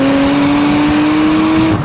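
A Porsche Macan Turbo with a dual-clutch gearbox accelerates with a loud, steady engine drone that climbs slightly in pitch, then cuts off abruptly near the end.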